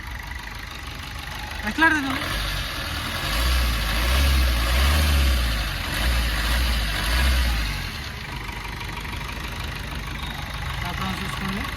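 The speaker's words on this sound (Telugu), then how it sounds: "సింగిల్ సెల్ఫ్ అయితే బండి స్టార్ట్ అవుతుంది సార్. ఎలాంటి స్టార్టింగ్ ట్రబుల్ అయితే లేదు." A 2016/17 Maruti Swift LDI diesel car engine idling with a steady low rumble, with a slight rise in the middle, while someone speaks briefly nearby.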